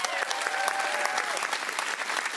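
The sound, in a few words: audience applause after dance performance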